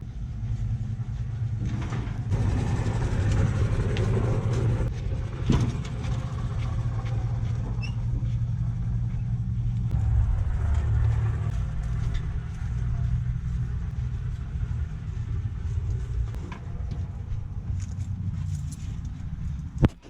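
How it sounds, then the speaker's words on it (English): A 2003 Murray riding mower's engine runs steadily as the mower is driven out of a garage, a low continuous rumbling drone for about twenty seconds with some shifting rattles and a sharp knock at the end. "Now I'm going to go ahead and pull this ride mower out to the front of the garage."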